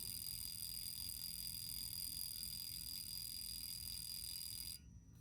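A wristwatch alarm sounds a steady high-pitched electronic tone continuously over low background rumble, then cuts off abruptly near the end.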